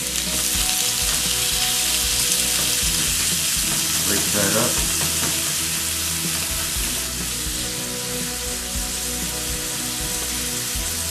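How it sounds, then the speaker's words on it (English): Loud, steady sizzling of oil frying in a pan, crackling continuously throughout, with a brief spoken remark partway through. "So now our oil's already sizzling."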